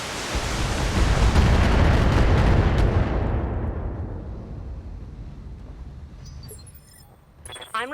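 MRM missile launchers fire in the BattleTech game as a loud, roaring rumble of launches and blasts. It swells over the first few seconds, then fades away slowly, followed by a few faint radio-like chirps.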